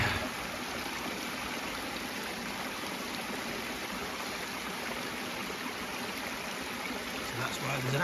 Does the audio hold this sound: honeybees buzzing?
no